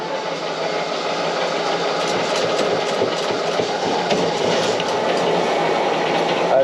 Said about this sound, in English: I'm going to start the starter and give it a small rev if it doesn't catch